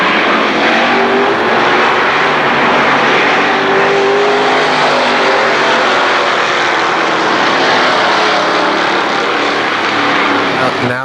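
Race cars at Kil Kare Speedway during Labor Day championship racing, a dense, loud roar of engines held steadily for the whole stretch, with an announcer talking over it.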